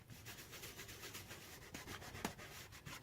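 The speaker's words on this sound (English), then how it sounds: "I'm just rubbing, and I'm liking that right now." Dry fingertip rubbing acrylic paint across an art journal page, a soft continuous scratchy friction close up, with brief louder strokes.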